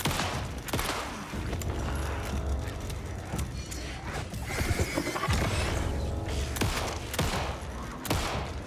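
Gunfire in Alan Wake 2 comes as rapid, repeated sharp shots amid a dense, loud mix of chaotic game sounds and impacts, continuing steadily for several seconds.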